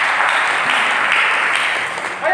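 A church congregation breaks into applause, an even, sustained mass of clapping heard close and fairly loud, dipping slightly near the end as a voice begins to cut in.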